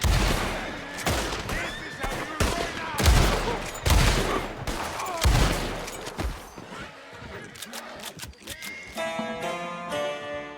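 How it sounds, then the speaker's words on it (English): Gunfire in Red Dead Redemption 2 comes as a string of loud, sharp shots in irregular bursts close by, with horses and game effects mixed in and a musical tone near the end. "when you start shooting your guns, the horses get really spooked by the gunfire"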